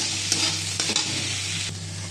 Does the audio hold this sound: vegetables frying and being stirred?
yes